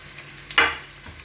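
Onions sautéing in a pan for a roadside-style empty salna gravy, heard as a single brief stirring scrape with a hiss of sizzle rising mid-clip over a quiet kitchen background.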